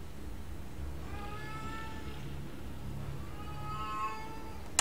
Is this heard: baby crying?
no